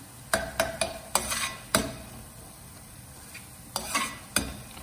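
Several sharp clinks of a utensil against a pan punctuate a soft background sizzle of prawns frying in oil, close by, with no talking.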